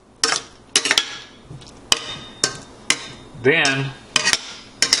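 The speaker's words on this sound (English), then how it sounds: "take my spatula and just slide them around in the oil" A spatula scrapes and slides canned potatoes around in hot oil in a frying pan, making repeated sharp scraping knocks at a steady pace, with a brief voice heard.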